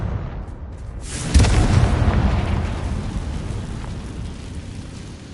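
A blasting spell in the Hogwarts Legacy video game goes off in a sudden deep boom that rolls into a long, rumbling crackle and slowly fades.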